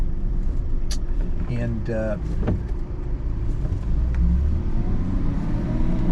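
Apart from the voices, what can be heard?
Mercedes Fintail car engine during a road test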